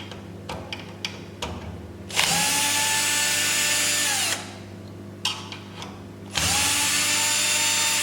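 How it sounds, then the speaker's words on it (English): Power drill on screws of an SPF5000ES inverter board, a few faint clicks and taps followed by two long steady whirring runs, loud and close, with a short pause between them. "before take out the screws, we need to loosen the screws"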